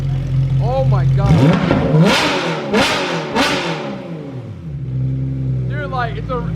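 Porsche 991.2 GT3 RS with a modified loud exhaust, revving hard in three or four sharp, rising blasts that crackle as they fall back to a rumbling idle, with excited voices talking over and between the revs.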